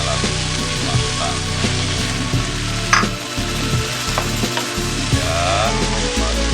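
Chilies frying in a pan for celem sabrang, an East Cirebon chili vegetable dish, give off a loud, dense sizzle that holds steady throughout, with occasional stirring clatter and pops and no voices.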